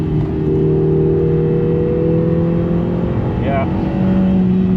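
A Lotus Emira sports car with a 4-cylinder 2-litre engine accelerates hard on a road, its steady engine drone and rising tone heard from inside the cabin, with a brief spoken word over it.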